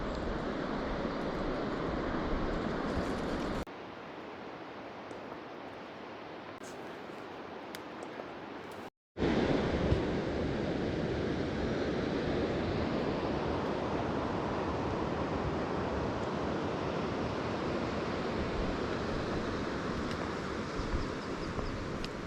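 Ocean waves breaking at Short Sands beach on the north Oregon coast, a steady wash of surf noise with wind, dipping briefly quieter midway before the roar returns.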